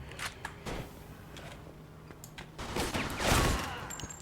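Gunfire in the Mafia 2 video game: several sharp, quiet shots and bursts scattered across a few seconds, with a heavier cluster near the end, faint and with no talking over them.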